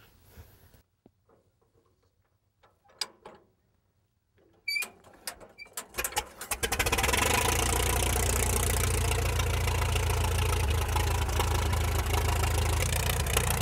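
A 1926 McCormick 15-30 tractor engine with no starter is hand-cranked, with a few clanks and knocks before it catches and settles into a loud, steady, rumbling run close by.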